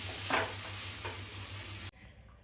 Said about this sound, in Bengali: দেখুন শুকনো মরিচ আর পাঁচফোড়ন এগুলো আমি দিয়ে দিলাম